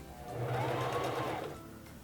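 A Singer Fashion Mate 3333 sewing machine runs a short burst of buttonhole stitches, a steady close mechanical whir that swells and then eases off, with no voices.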